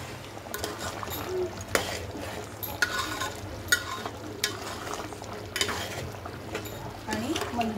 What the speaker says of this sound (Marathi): दोन चमचे मीठ टाकते, त्याला व्यवस्थित असं मिक्स करून